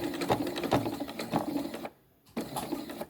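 Sewing machine stitching a back stitch along the seam of a drawstring bag, a steady close mechanical whir that stops briefly near the end, then starts again.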